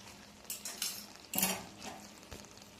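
Utensil stirring ghee and garam masala through Bengali cabbage curry in a pan, a few scraping clinks and clatters at irregular intervals, one louder scrape near the middle, close and fairly quiet, no talking.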